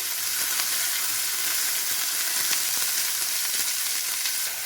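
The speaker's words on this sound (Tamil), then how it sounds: "இந்த எண்ணெயில் கொஞ்ச நேரம் காயை நல்லா வணக்கிக்கலாங்க" Eggplant, potato and onion sauté in hot oil for sambar, giving a steady, close sizzle and crackle that runs unbroken for several seconds with no voices.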